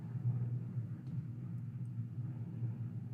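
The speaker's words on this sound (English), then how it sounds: "Is there like a plane or something going by?" An airplane passing overhead makes a faint, steady low rumble that drones on without a break, with wind outdoors and no talking.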